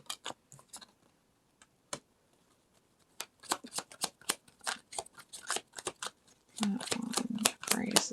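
Tarot cards being shuffled in irregular bursts of crisp riffling and slapping, sparse at first and then denser and louder toward the end, close up with no talking.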